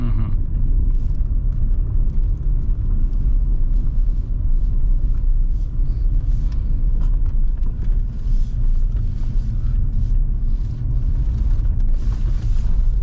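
Mercedes W211 AMG engine rumbling steadily from inside the car while driving on snow, a deep continuous drone with gentle throttle changes and road noise, loud and close.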